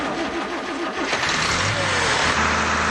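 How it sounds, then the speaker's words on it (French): A water-fuelled Pantone engine, a converted motor running on a water mixture instead of petrol, runs steadily with a rough, loud mechanical roar and uneven popping, with no voices. "voilà la machine qui pétarade à tout va."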